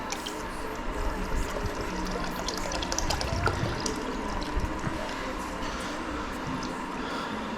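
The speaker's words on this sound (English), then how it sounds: "empty out the distilled water from this bottle as well, I mean the reservoir." Distilled water being emptied from a Kawasaki Ninja 650 motorcycle's coolant reservoir during a coolant change, a continuous close splashing and trickling pour with no talk.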